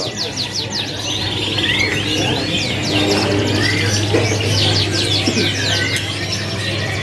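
Caged canaries trill and chirp in bright overlapping phrases at a bird market kiosk in Jakarta, with a low steady hum of the surroundings underneath and faint cooing mixed in.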